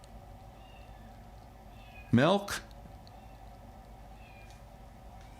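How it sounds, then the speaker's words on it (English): A pet cat named Lenny lets out a loud, rising meow at close range, a single drawn-out cry followed by a shorter second call, while a person speaks briefly nearby. "Oh, I hear my kitty."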